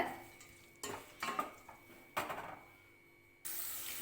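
Curry leaves are stirred into brinjal thokku in a pan, with several sharp scraping clatters of a utensil against the pan over a faint frying sizzle, close and quiet.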